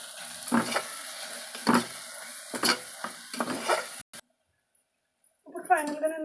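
Spiced spinach and paneer mixed in a pan, several rhythmic scraping strokes of a spoon against the pan with a light sizzle, a brief silent gap, then a voice speaking at the end.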